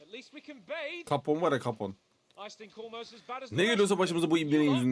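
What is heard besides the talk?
None of the usual background noises is heard.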